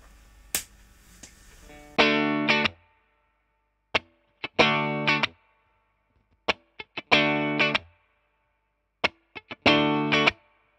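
An electric guitar played through a Mesa Boogie Mark V 35 combo amp set to 10 watts, with short distorted chord stabs and chugs in a rhythmic stop-start pattern separated by clean silences and single muted hits.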